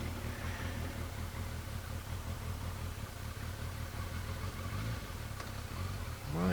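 A car driving at twilight with its heater running, a steady mid-to-low engine hum and road rumble continuing evenly throughout, with a brief louder swell near the end.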